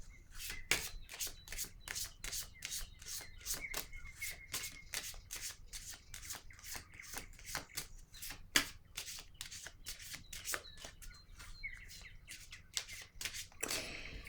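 Tarot cards are shuffled and drawn close up in a rapid run of crisp riffles and flicks that continues steadily for a long stretch, with no talk over it.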